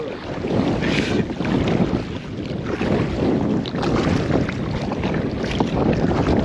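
A kayak on dam backwaters surrounded by loud, steady wind buffeting with soft watery swishes and splashes underneath, close and continuous, no speech.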